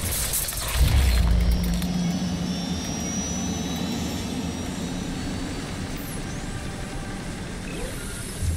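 Aircraft engine in the video game Bulletstorm, a steady loud jet roar with a heavy low thump near the start, then a sustained whooshing drone with faint high whines, no speech.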